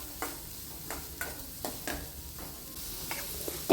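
Chopped onions and garlic fry at medium heat in a pan, giving a quiet, steady sizzle punctuated by a series of sharp clinks and scrapes from stirring, roughly every half second.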